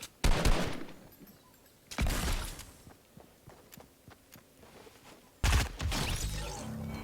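Gunfire in the battle royale game Fortnite from a pump shotgun and a sniper rifle, three separate loud bursts spaced a few seconds apart with ringing decay and light footsteps between them.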